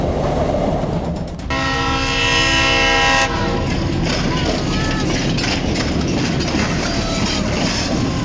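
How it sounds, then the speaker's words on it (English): Via passenger train approaching a level crossing, a loud sustained horn blast over heavy rumbling wheels and wind noise, recorded close. "As Via 911 gets closer, Via 910 passes the curve of the crossing."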